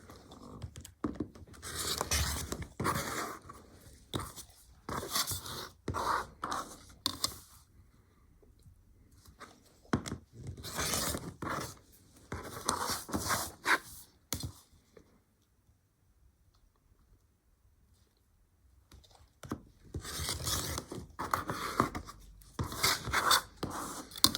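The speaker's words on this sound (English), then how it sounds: "we're just gonna trim it all the way down to the seam allowance" Scissors trim quilt block fabric down to the seam allowance in close, quiet bursts of snipping and crisp cutting strokes, with pauses of near silence between runs.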